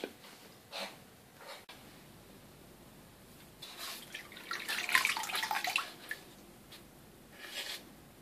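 Water sloshing and splashing as a model YAK130 canopy part, held with an elastic band around a mug, soaks in hot water; close, irregular bursts of liquid movement with quiet gaps between them.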